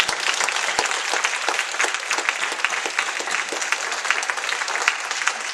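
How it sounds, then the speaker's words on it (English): An audience at an evening event with several candidates breaks into steady, sustained applause, a dense wash of many hands clapping at moderate distance, with a few crisp nearby claps. "Let's give them a round of applause."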